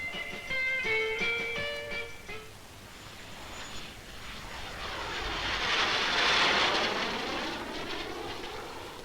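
A Kiran trainer jet of the Indian Air Force roars past on a runway, its engine noise swelling loud and near before fading away, with a few tonal beeps heard just before it.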